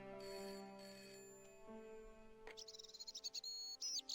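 A telephone ringing in the adventure video game Broken Sword: The Shadow of the Templars, a faint warbling electronic trill that starts partway through and pulses in quick bursts over quiet game ambience.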